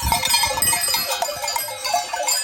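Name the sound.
flock of goats in the Alps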